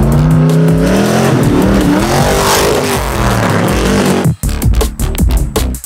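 A Ford F-100 PreRunner race truck climbing a hill: a loud, close, roaring engine that holds high revs, then breaks into choppy bursts as the throttle cuts in and out near the end.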